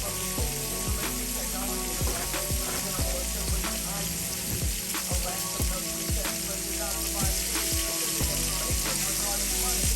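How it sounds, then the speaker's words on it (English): Shrimp dropped into hot cooking oil in a pan sizzle loudly and steadily, a dense crackling hiss with scattered pops and clinks of the food settling, continuous throughout with no voices. "Once the oil is hot, the pan is hot, you want to throw your shrimp in."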